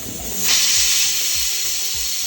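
A pressure cooker holding cooked beef is opened, releasing a loud, sustained hiss of steam that swells after half a second and keeps rushing steadily, with faint low knocks underneath.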